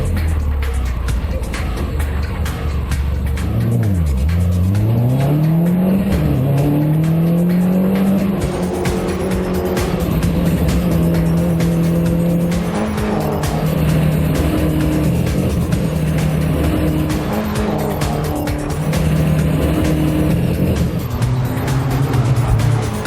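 Mini Cooper race cars lap a circuit, engines roaring loud and close with rising and falling revs, gear changes and tire squeal, cars passing continuously throughout.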